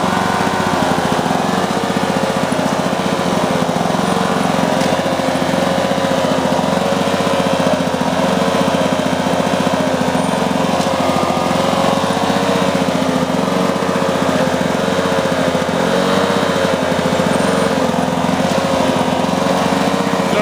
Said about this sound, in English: Drive unit is driving. Transmission is functional. We'll go ahead and engage it.